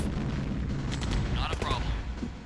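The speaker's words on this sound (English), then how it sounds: "You can hear the explosions from the building as they frantically try and repair it" Rumbling, booming explosions from a building in Command & Conquer (1995) roll continuously over a noisy battle backdrop, with a brief high whistling sweep partway through.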